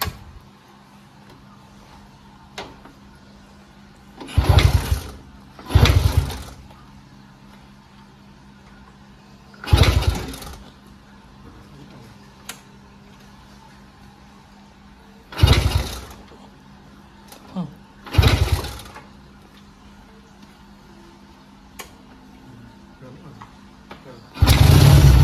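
A 1967 Honda C72 Dream motorcycle, nearly all original, makes several short, separate bursts of engine noise that start and stop repeatedly against quiet background hum, and a louder burst comes at the very end.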